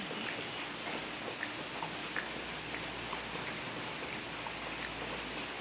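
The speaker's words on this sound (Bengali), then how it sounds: "দেখো খুব বৃষ্টি হচ্ছে।" Heavy rain pours steadily after a night and day of downpour, a dense even hiss with scattered drops tapping nearby surfaces, no talk over it.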